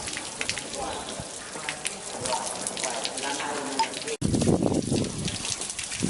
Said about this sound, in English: There's a fountain. There's the water.